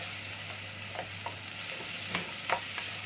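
Onion and tomato being sautéed and stirred in a pan, a steady soft sizzle with a few scraping stirs of the spoon breaking through, fairly quiet and close.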